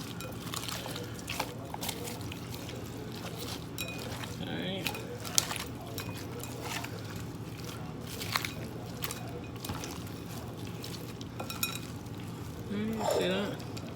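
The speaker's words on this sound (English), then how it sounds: "now we're just going to add in that sliced sweet onion" Sliced sweet onion sizzling in a hot pan, a steady low frying hiss with faint crackles running throughout, mostly under a person talking nearby.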